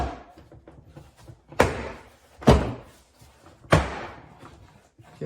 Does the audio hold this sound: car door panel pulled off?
yes